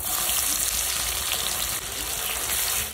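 Onion sizzling in hot oil with bay leaves, cardamom, cinnamon and cumin, a dense continuous crackling fry that stays close and loud for the whole stretch, with a faint steady whine above it.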